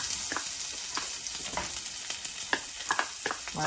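Onion frying in heated oil in a pan, a steady broadband sizzle with scattered crackles and pops throughout, close and continuous with no talking.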